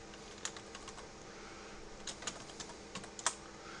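Someone types a folder name on a computer keyboard in Windows Explorer, a quick run of soft, close key clicks with a few sharper taps, quiet and without talk.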